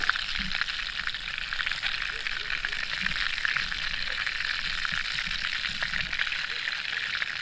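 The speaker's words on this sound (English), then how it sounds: "And then we add some bacon. Warm it back up." Bacon sizzles in a pan with a steady, fairly quiet hiss and crackle, heard close with a few soft low knocks throughout.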